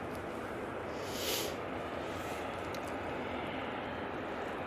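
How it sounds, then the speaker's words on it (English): An EasyJet Airbus A320neo departs from Manchester Airport, its engine noise a steady, fairly distant roar with a slight swell partway through. "EasyJet A320 Neo taking an in-section departure"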